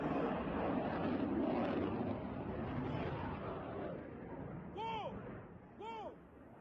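An F-18 fighter jet crashes at a Spanish military base during a training exercise after a malfunction, producing a loud, sustained roar and rumble. Two short voiced calls cut in near the end.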